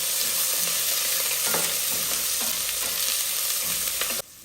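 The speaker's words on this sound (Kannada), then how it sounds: "ಸಾಸಿವೆ ಸಿಡಿಯೋಕ್ಕೆ ಸ್ಟಾರ್ಟ್ ಆದಮೇಲೆ ಕರಿಬೇವು ಮತ್ತು ಈರುಳ್ಳಿ ಹಾಕೋತಾ ಇದ್ದೀನಿ." Curry leaves and onion dropped into hot oil with popping mustard seeds sizzle steadily in a pan, with faint crackles and spoon stirring throughout, then the frying cuts off abruptly near the end.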